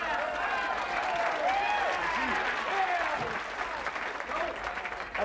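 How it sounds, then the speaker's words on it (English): A comedy show audience applauds a volunteer called up on stage, with loud, sustained clapping from a full crowd and some voices and cheers mixed in before it eases slightly. "Let's have a big round of applause for him."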